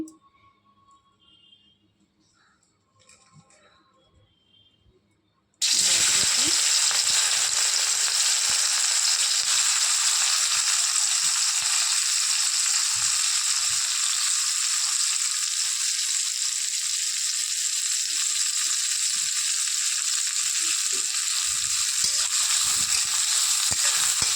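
Oil for fried rice heats in a pan. After a few seconds of quiet clatter, a loud, steady frying hiss starts abruptly and holds close and unbroken to the end, with no voices.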